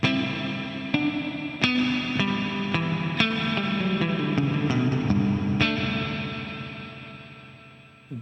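Short guitar stabs played through a TC Electronic Hall of Fame 2 reverb pedal, about a dozen sharp attacks in uneven rhythm, each leaving a swelling reverb wash that fades out slowly at the end.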